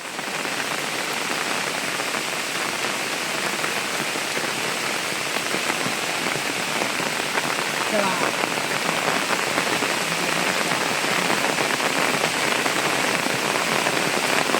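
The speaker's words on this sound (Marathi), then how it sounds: "अगं भाई हा पाऊस काय थांबाय ना" Rain falls steadily in a village during the rainy season, a dense, even hiss of drops pattering on surfaces for the whole stretch, close and continuous, with no talk.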